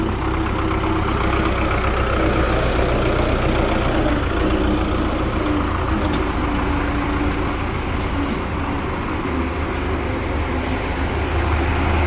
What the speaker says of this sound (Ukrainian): Так, ну що, зараз заганяємо трактор з прицепом в склад.